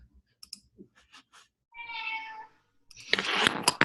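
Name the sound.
cat meowing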